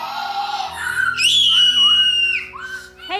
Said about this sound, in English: Hey, don't scream, you'll scare him.